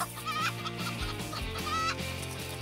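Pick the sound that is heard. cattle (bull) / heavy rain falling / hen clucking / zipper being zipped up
hen clucking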